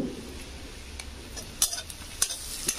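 Cumin, chopped ginger and garlic fry in a pan while being stirred, a soft steady sizzle broken by a few sharp spoon clicks against the metal.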